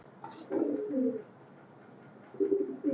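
Highflyer pigeons coo in low, throaty bursts as a pair is let go, with two soft phrases early on and another near the end over a quiet background.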